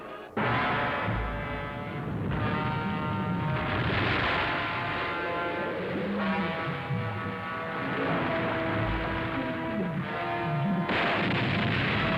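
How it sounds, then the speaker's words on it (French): A long, heavy explosion aboard a submarine roars and rumbles for several seconds, a dense booming wall of sound that swells and fades before another blast hits. "Attention, préparez-vous à une explosion!"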